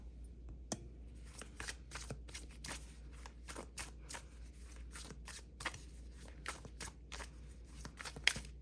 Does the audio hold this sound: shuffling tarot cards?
yes